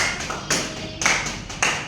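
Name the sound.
class clapping hands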